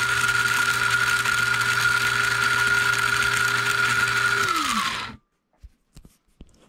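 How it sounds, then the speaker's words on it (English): A hand-cranked grinder grinds seeds in a steady, loud mechanical whir with a sustained tone that winds down and stops after about five seconds, followed by a few faint clicks in near silence. "we're grinding the seeds and all"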